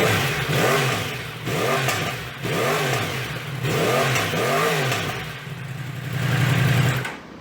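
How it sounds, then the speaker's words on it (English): A 2016 Yamaha R1 motorcycle with its stock exhaust revs repeatedly, loud and close, its engine pitch rising and falling in four or five blips before settling into a steadier higher rev. "We're going to fire up this bike right now so we can show you what the stock exhaust system sounds like"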